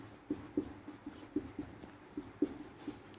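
Pen writing on paper during a Class 10 maths lesson on polynomials, a series of soft, irregular scratchy strokes with short pauses between them, close and quiet, with no talk.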